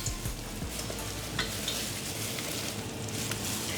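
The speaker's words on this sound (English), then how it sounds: "we're gonna saute our shrimp inside of that butter and vegetable melody" Shrimp sauté in butter with vegetables in a pan, a steady close sizzle broken by occasional stirring scrapes and clinks.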